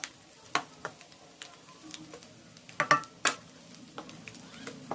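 Jaggery syrup mixture being stirred in a pot for traditional sweet pongalu, with scattered soft scraping and tapping strokes of a spoon against the pot, irregular and close, over a faint simmering hiss.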